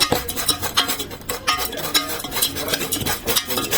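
Vermicelli being stirred in melted butter in a pan over low fire, a steady run of scraping, clattering strokes with a faint sizzle underneath, close and fairly loud throughout.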